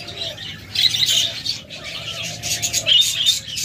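Caged budgerigars, cockatiels and lovebirds chirp and twitter in bright bursts, several birds calling at once, loud and near, with a few louder squawky peaks and no talking.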